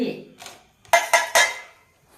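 Peanuts are pounded in a kitchen mortar with three heavy, closely spaced thuds, following a brief stretch of faint voice.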